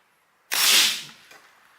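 Single loud whooshing shot from a Pinty .22 calibre PCP air rifle, a sharp burst of air that decays over about half a second, then a faint click, close and isolated.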